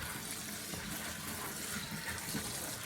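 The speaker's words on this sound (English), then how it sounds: "I scrubbed my greens real good, and now I'm rinsing them off" Water sprays steadily from a faucet while scrubbed greens are rinsed off in a sink, a close, continuous rushing hiss with no one speaking.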